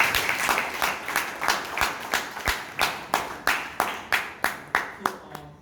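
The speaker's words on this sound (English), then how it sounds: "Let us give a big round of applause to all of them." Audience at a Bangalore Toastmasters club meeting gives a round of applause that settles into rhythmic unison clapping, about a dozen sharp, evenly spaced claps, fairly close and loud.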